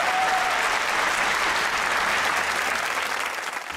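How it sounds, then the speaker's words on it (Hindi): A studio audience on a Pakistani comedy talk show breaks into loud, sustained applause after a beatboxing bit, a dense even wash of clapping that fades slightly at the end. "वाह भाई वाह, तालियां।"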